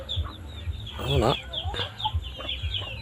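Chickens cluck close by, with repeated short chirps and peeps, one louder warbling squawk in the middle and a voice talking now and then.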